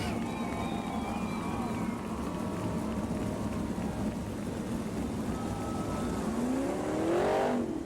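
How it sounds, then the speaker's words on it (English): Sprint car engines drone from a distance at a Florence, Kentucky track, then one car roars past close by, its pitch rising sharply as it swells in volume near the end. "The sprint cars are back."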